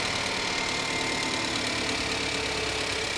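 A 2016 Chevrolet Malibu with a 2.5 liter engine idles under the hood, producing a steady, even mechanical hum and whir with no speech, heard close and fairly loud throughout.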